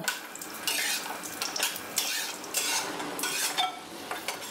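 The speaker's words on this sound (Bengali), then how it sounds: "এবার তেলে ভেজে নেব কয়েকটা বড়ি। আমি সর্ষের তেলে ভাজি" Bori lentil dumplings fry in mustard oil in a pan, with a steady bright sizzle broken by repeated scraping and clinking of a utensil against metal, close and alone with no talk.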